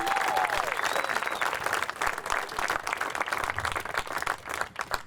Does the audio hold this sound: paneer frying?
no